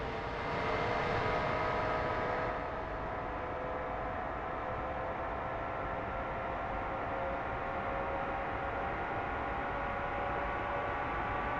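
F-4 Phantom jet engine spooling up during a cold start in the DCS flight sim, a steady loud whine and roar holding evenly throughout, no voices.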